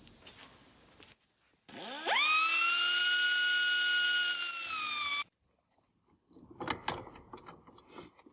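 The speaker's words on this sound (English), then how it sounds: "I've got this nice pneumatic cutting disc" A small pneumatic cutting disc spins up with a rising whine and holds a loud, steady high-pitched tone for about three seconds, then cuts off, while shaping a small metal tool for removing a Makita 12V drill chuck.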